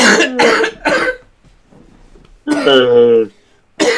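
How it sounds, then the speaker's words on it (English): A couple of rough coughs and throat-clearing bursts from a nearby person with a chest cold, separated by short pauses. "I'm gonna be coughing throughout the night."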